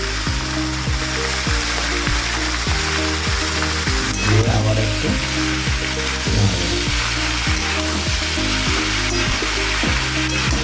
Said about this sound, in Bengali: এইভাবে ভাজতে হবে বন্ধুরা যত ভাজবেন তত খেতে ভালো লাগবে